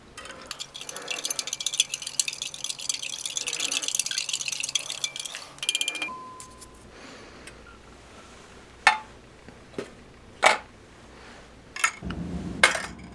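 Isotonic drink mix being stirred in 250 millilitres of water, lemon-lime scented, for a United Nations ration: a steady clinking scrape at first, then a few sharp separate taps of the spoon against the container.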